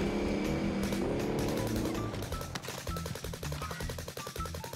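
Rapid bursts of gunfire in the video game Warzone crackle over a rumbling engine, with repeated sharp shots in quick succession.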